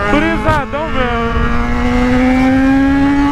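A Yamaha XJ6 motorcycle engine revs hard, its tone climbing after a quick dip, then holding a steady high whine close by, with a voice briefly audible at the start.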